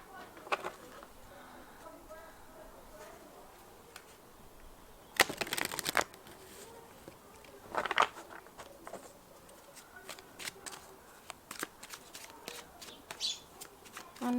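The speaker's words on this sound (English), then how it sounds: "I'm going to shuffle the cards again." Tarot cards are shuffled by hand in a quiet room, with soft riffles and taps, a few louder flurries, and faint bird chirps in the background.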